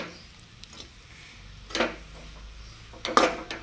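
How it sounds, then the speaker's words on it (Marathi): A spoon scraping and clinking in a pan while carrot halwa is mixed with ground cashew-almond flour and raisins, soft quiet stirring broken by two sharper metallic scrapes toward the middle and end. "चांगलं मिक्स करून घ्यायचं."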